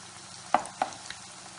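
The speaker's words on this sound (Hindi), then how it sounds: "कोफ्ता अच्छी तरह से फ्राई हो गया है" Raw papaya koftas fry in a pan with a faint, steady sizzle, broken by two or three soft utensil clacks as the koftas are turned.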